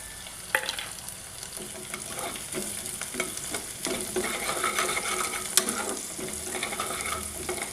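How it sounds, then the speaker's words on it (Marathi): Cumin seeds sizzle in hot oil in a pan for cashew curry, giving a dense, steady crackling hiss with a few sharp pops and light stirring scrapes, close up, and no voices. "जिरे पण टाकून घेऊया."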